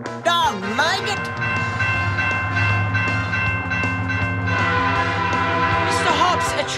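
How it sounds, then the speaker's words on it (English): A train approaches loudly with a steady rumbling roll and rail clatter, while shrill whistle-like tones and raised voices cut in at the start and end. "Mr. Hobbs, a train is coming!"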